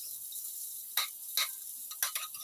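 Sisig with onions is stirred in a hot pan, giving a steady faint sizzle broken by several quick scraping strokes of the utensil, with no voices.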